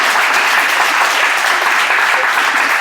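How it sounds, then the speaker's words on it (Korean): Loud, dense applause from a studio audience during a talk show about Monet and Munch, an even wash of many hands clapping for the full stretch. "저한테도 박수 한번 주시죠"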